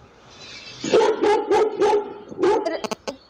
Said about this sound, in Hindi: एलेक्सा कुत्ते की आवाज़ निकालो